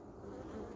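Bees buzz close by in a small nuc hive while chasing beetles, a steady low insect drone with no voices.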